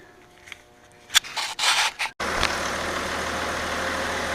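A few sharp clanks and bursts of noise, then an Audi A4 engine, running with the mass airflow sensor disconnected during a misfire repair, settles into a steady, fairly loud idle hum that continues to the end.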